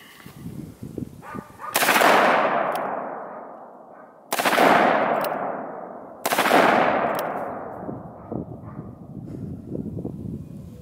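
A .44 revolver fires three loud, sharp shots at a bulletproof backpack, spaced about two seconds apart, each cracking close by and trailing off in a long ringing echo over a quiet background.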